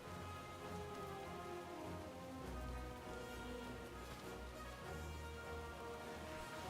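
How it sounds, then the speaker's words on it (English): Steady rain falls in the World of Warcraft video game, a dense, even patter on surfaces that continues without pause, soft and fairly distant, with no voices. "I hope this rain isn't a bad omen."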